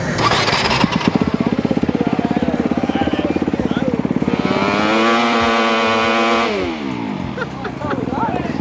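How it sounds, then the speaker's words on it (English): Motorcycle engine revving hard and steady during a tire burnout at a 24-hour endurance race camp, a loud sustained roar that rises in pitch near the end, then drops back toward idle. "do a tire burnout for us"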